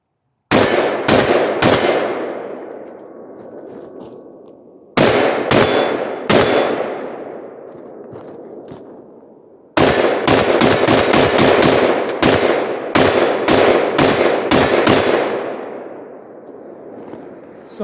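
A Sig M400 AR-15 rifle fires in three bursts of quick single shots, each crack followed by a bright metallic ring from steel targets. The shots are loud and close, with decaying ring-outs between groups, and no voice.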